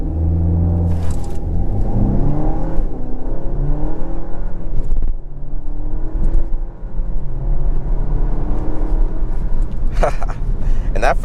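A 2023 Dodge Hornet GT Plus launching hard from a brake-boost start in sport mode with stability control off, its engine roaring loudly and rising through the gears with a steady rumble, captured close inside the cabin.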